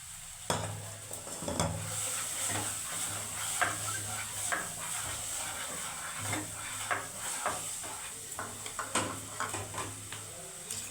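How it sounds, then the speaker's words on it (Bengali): A pan of Bhola fish curry with Kashmiri chilli and turmeric, and a little water just added, gives a steady hiss and sizzle, broken by irregular scraping stirs and light clinks of the utensil against the pan. "আমি অল্প একটু জল দিয়ে দিচ্ছি"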